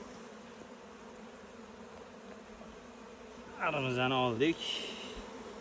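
Honey bees hum steadily at a hive as the colony begins to swarm, a low continuous drone throughout, with a voice speaking briefly over it near the end.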